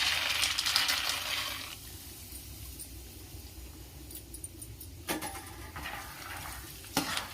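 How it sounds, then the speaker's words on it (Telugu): Peanuts being fried in hot oil for kaaram borugulu (spicy puffed rice), a broad sizzle that is strongest at the start and then settles into a steady low crackle. Sharp stirring scrapes and clatters come at about five and seven seconds. "ఇలా ఆయిల్ బాగా హీట్ అయిన తర్వాత ఇందులోకి పల్లీలు వేసుకోవాలి."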